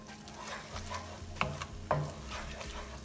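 Egg bhurji, spiced Indian scrambled eggs, sizzles softly in a pan while a utensil stirs and scrapes, with a couple of sharper clinks against the pan amid the quiet frying.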